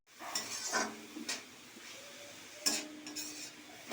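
Red amaranth greens stir-fried Bengali style in a pan until the water cooks off, with a spatula scraping and clinking against the pan in short bursts and a faint sizzle beneath, close by and with no talk.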